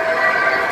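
A children's ride-on train at a Jusco shopping mall gives a short, steady, droning tonal hum that holds evenly for under a second, with no talk over it.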